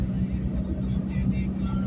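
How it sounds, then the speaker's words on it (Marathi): A car cruises smoothly along an asphalt stretch of the Mumbai–Goa highway, its steady low engine and road rumble continuous and close throughout. "गाडी तडफडत काय नाही ग, आपली स्मूथ चालली आहे"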